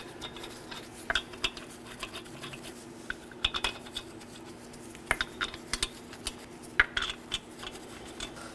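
Wheel lug nuts threaded by hand onto the left front wheel of a 2018-2024 Chevrolet Equinox, a close, quiet series of light metallic clicks and scrapes in irregular bursts.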